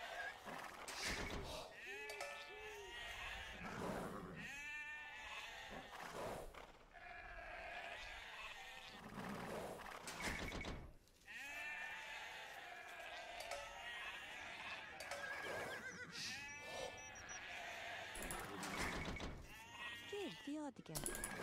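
Sheep bleat again and again during a video game match set on a map called Ghost Lake, their wavering cries rising above a steady background while someone talks over much of it.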